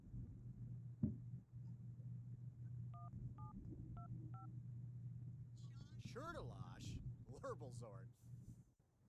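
Short paired tones from a phone being dialed in The Sims 3, four quick beeps over a steady low hum, followed by game chatter and voices near the end.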